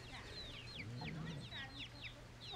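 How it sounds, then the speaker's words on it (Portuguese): Chickens cluck and chirp faintly on a rural farm among growing chicks, with quick high peeps over a low steady hum and a brief low voice. "A galinha."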